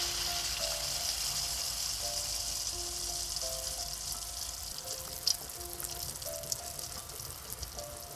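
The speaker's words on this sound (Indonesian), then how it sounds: "Kita goreng kucurnya." Kucur cakes fry in hot oil with a continuous, close sizzle and crackle, steady throughout with a few faint clinks and no talking.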